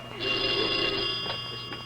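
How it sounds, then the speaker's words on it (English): A telephone bell rings steadily in an indoor comedy scene, a sustained bright electric ring that holds for nearly two seconds at moderate level with no voices over it. "Aren't you going to answer the phone, Jack?"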